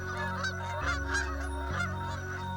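Geese honking in a loud, continuous chorus of overlapping calls, close by and steady for the whole stretch, with a low droning layer underneath.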